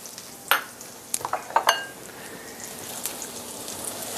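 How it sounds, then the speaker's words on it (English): Chopped garlic cloves hitting hot bacon grease in a pan give a soft continuous sizzle, with a few sharp clinks and stirring clatters near the start, then steady quiet frying alone. "we got our bacon grease here, is we want to get this, keep this good and hot and start our cabbage"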